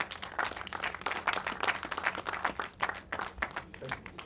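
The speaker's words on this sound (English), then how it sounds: "A round of applause for him, please." An audience at a movie premiere claps for a director taking the podium, a dense, continuous crackle of many hands at moderate loudness, rising and falling slightly without voices standing out.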